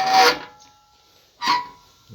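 Two rasping strokes of a file across a circular saw blade during sharpening, each a brief gritty scrape separated by a pause, close and clear.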